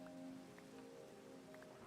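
Rain falls in the Minecraft video game as a faint, even patter with soft scattered drops, steady and quiet throughout.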